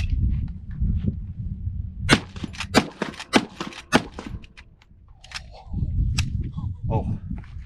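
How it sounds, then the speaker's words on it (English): Four sharp, loud shots ring out in quick succession from a Marlin lever-action rifle chambered in 30-30, each crack followed by a brief echo, with rumbling background noise before and after the string. "4 rounds of 30-30 out of this Marlin."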